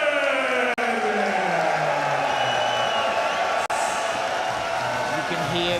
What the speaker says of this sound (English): You can hear the crowd's appreciation for this Dutch MMA fighter.